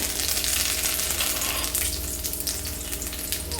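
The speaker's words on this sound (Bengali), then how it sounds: "এখানে আমি দিয়ে দিচ্ছি তেজপাতা আর গোটা জিরা ফোড়ন" Bay leaves and whole cumin seeds sizzle loudly in hot oil as a tempering, a dense crackling fry with a few stirring scrapes and a low steady hum in the background.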